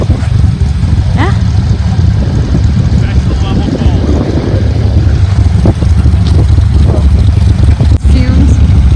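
A Corvette with quad exhausts rumbles loudly and steadily at a car show, a continuous low engine drone filling the scene with occasional faint voices nearby.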